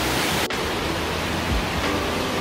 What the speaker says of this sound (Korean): 완전히 그냥 물바다에, 물바다. 뭐 어디 폭포, 저 홍수 났나 봐요